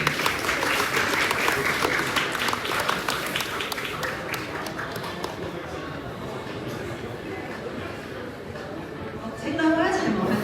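Sustained audience applause at an award ceremony for a 2026 space-application creative competition in Hong Kong, dense steady clapping filling the room for about ten seconds, with a renewed swell near the end.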